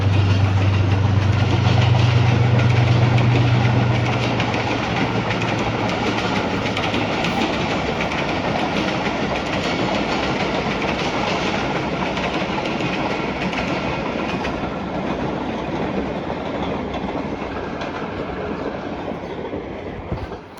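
A train passes nearby with a loud, steady rumble and rhythmic clickety-clack of the wagons lasting about twenty seconds, the noise easing slightly toward the end. No one speaks.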